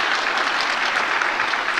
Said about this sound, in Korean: 박수로 축하해 주세요.